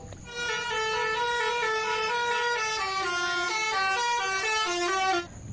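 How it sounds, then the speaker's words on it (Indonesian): A toy telolet bus horn plays a loud, sustained melodic tune of shifting musical tones for about five seconds, then cuts off abruptly. "Wow, ini bus telolet."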